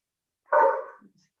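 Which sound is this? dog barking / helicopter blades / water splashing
dog barking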